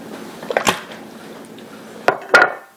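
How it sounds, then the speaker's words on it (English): Gnocchi tipped into a pan of peppers and stirred, giving a few quiet clattering, squishy bursts close by with near silence between them. "And now I'm going to add my gnocchi."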